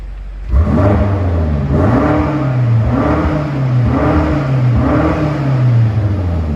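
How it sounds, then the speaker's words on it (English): A BMW M8 Competition Gran Coupe's 625 hp engine revved repeatedly, four rising and falling surges in a steady rhythm, loud and close. "giving you a little sound clip of that wonderful 625 brake horsepower engine"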